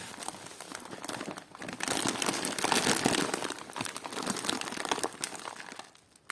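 A large plastic parcel bag crinkles and crackles steadily while a package of vintage scrap jewelry and repair parts is unpacked, with loud continuous rustling that surges in the middle and fades near the end.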